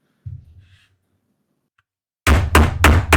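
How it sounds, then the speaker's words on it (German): Fist punching a computer keyboard as hard as possible, heard as a soft thud first, then after a pause three loud, close, heavy thumps in quick succession. "Hau mal so fest wie es geht mit der Faust auf die Tastatur."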